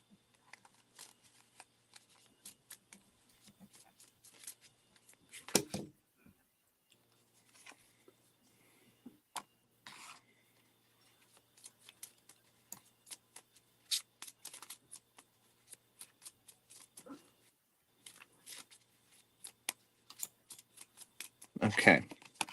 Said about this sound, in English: I'm still pulling cards for you,